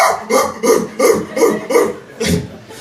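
A voice imitates a dog, giving a run of about seven short, evenly spaced barks, loud and close, with a slightly stretched last one.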